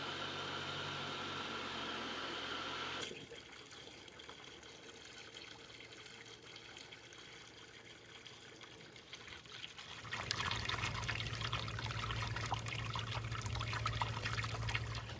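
Water running from a hose into a container outdoors, a steady rushing pour that softens partway through, then grows louder and brighter as the flow picks up, with no talking.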